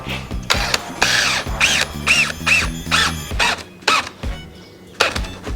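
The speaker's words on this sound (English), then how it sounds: "we'll screw in the screws" A power drill drives screws into a wooden garden gate clamped along a glued seam, giving a series of short whirring bursts with brief pauses, close and fairly loud.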